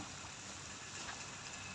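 Rain falls during a Songkran festival in Thailand, a soft, even, continuous hiss with no clear drops standing out, faint and alone.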